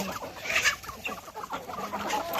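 Chickens cluck and chatter continuously close by on a chicken farm, several birds overlapping in a busy, steady stream of calls.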